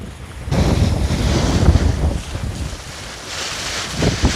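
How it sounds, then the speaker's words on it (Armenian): Wind blows straight into the microphone outdoors, a loud, continuous roaring buffet that swells and eases in gusts, with no voices. "Քամի է։"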